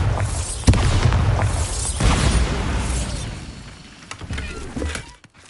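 Bombarda blasting spell going off in the Hogwarts Legacy video game, with a sharp boom followed by rumbling debris and crackling, then a second burst and fading clatter.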